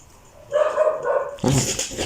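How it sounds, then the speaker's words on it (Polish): A dog barks twice in quick succession, fairly close, with no one speaking. "Teraz to mój pies szczeka"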